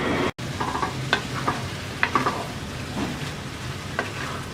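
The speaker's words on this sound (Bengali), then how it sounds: "এবার মিডিয়াম আছে পাঁচ মিনিট কষিয়ে নেব" Monkey jackfruit pickle frying in a pan with chili and turmeric powder, a steady close sizzle with occasional spatula scrapes and taps, no talking.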